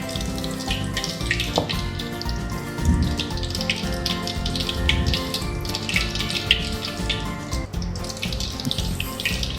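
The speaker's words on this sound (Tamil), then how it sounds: "இந்த எடுத்து வச்சுருக்க எண்ணெயை ஊற்றிக்கணும்" Oil is poured into a pan on the stove while making lemon pickle, producing a steady, close, gurgling stream of liquid that runs continuously throughout.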